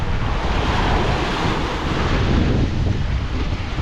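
Rough sea in Typhoon Uwan, big waves and strong wind buffeting a small boat, a loud continuous roar of surf and wind gusts battering the microphone with no pause.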